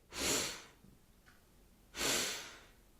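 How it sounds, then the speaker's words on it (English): Two sharp nasal inhales come about two seconds apart, close and breathy, with quiet between them. "Take 2 more sniffs with me."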